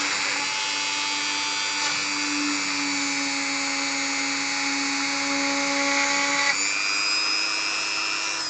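A power tool spins at high speed while boring into a plastic part for a custom Star Wars Legion AT-ST model, a steady close whine with sustained tones that shift in pitch partway through, loud and uninterrupted without speech.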